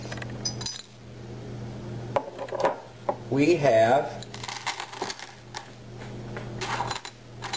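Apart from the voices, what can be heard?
bits of broken window glass clinking in a witch's bottle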